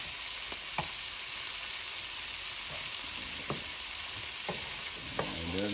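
Shrimp fry in a pan with a continuous soft sizzle, punctuated by occasional light clicks and scrapes of a utensil, and a brief voice at the very end.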